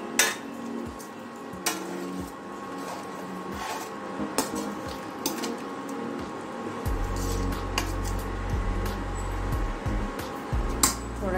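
Potato curry gravy is stirred slowly in a pan as water is added, with scattered spoon clinks and scrapes over a soft simmering hiss and a low hum joining partway through.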